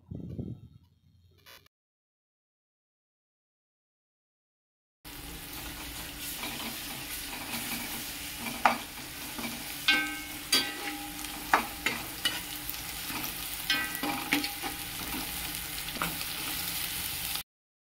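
Ginger, garlic and turmeric fry in a pan for chicken biryani, giving a loud, continuous sizzle with repeated sharp stirring scrapes and taps. A short muffled sound comes first, then a few seconds of silence before the frying starts.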